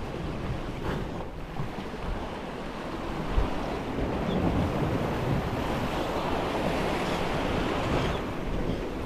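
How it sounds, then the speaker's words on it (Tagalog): Rough sea waves surge and wash steadily on a fishing outing, a dense, continuous roar with heavy wind buffeting the microphone throughout and no voices. "Maalon."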